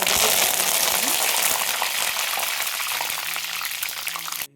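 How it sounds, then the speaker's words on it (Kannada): Mustard seeds and cumin hit hot oil with a loud, dense sizzle that slowly eases off over a few seconds, no talking. "ಎಣ್ಣೆ ಕಾದಿದೆ. ಈಗ ಸ್ವಲ್ಪ ಸಾಸಿವೆ ಜೀರಿಗೆ ತೊಗೊಂಡಿದ್ದೆ, ಅದು ಹಾಕ್ಕೊಳ್ತಾ ಇದ್ದೀನಿ"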